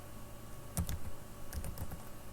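Quiet keystrokes on a computer keyboard come in two short bursts of clicks over a low steady background hum, with no talking.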